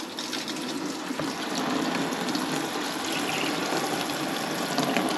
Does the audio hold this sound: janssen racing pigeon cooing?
no